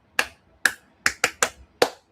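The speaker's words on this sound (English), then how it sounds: "Let me clap for those who got B." Six sharp, separate hand claps ring out one after another in a quiet room, brisk and close, the spacing a little uneven, with no talking between them.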